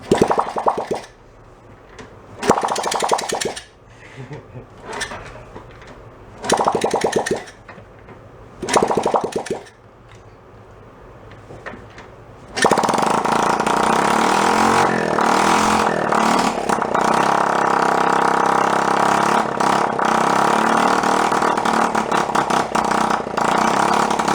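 A worn-out Honda Trail 70 motorcycle engine, choke open, coughs through several short start attempts with quiet gaps, then catches and settles into a loud, steady idle that carries on unbroken to the end, indoors and close.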